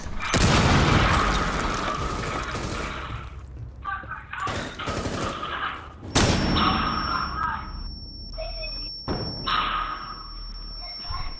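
Loud gunfire and thuds in a Rainbow Six Siege beta match, with a sharp flashbang-like bang midway followed by a sustained high ringing tone and further scattered shots.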